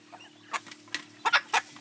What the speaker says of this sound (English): this is the mother of all the chicken with the short legs.